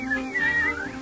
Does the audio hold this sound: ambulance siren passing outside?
no